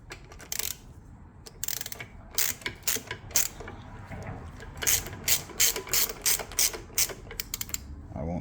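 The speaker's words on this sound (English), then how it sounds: "Now I'm putting the headlight assembly back on." Metal parts clink and ratchet in short irregular bursts as a headlight assembly is refitted to a Harley-Davidson Iron 883 motorcycle, the clicks close and moderately loud over a quiet room.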